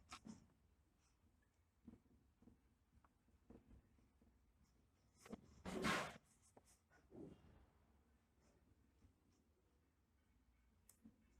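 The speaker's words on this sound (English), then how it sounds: "Let's write that down." Pen or chalk writing down notes during a lecture, with faint scratchy strokes and scattered taps across a quiet room, plus one louder brushing or rubbing burst partway through.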